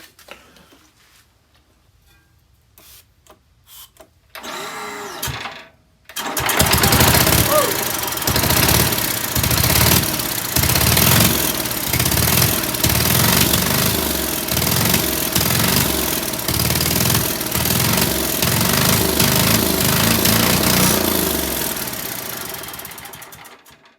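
The engine of a 1960s Sears Custom tractor cranks briefly, then catches and runs loud and close with a steady, rapid knocking chug that continues for about twenty seconds.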